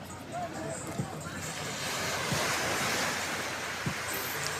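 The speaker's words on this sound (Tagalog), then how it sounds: "Ganda ng beach dito sa ano" Ocean surf rolling onto Casapsapan beach: a steady, close wash of breaking waves with wind buffeting the microphone, continuous throughout.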